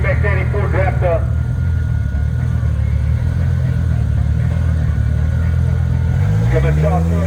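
Audi RS3 with an all-wheel-drive 2.5-litre five-cylinder lines up against the Turbosmart Ford Raptor at a drag strip, a loud continuous engine drone with rising revs near the end, under an announcer's voice.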